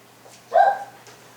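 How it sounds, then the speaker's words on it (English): A single close dog bark, short and sharp, in a quiet room. "the dog was barking, meanwhile the teacher was trying to make a video"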